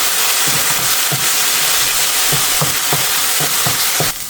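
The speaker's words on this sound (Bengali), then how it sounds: "মশলাটা একটু ভাইজে নিই" Ground spice paste with turmeric frying in a pan, a steady loud sizzle with a spatula scraping and stirring in repeated regular strokes, close by, no talk.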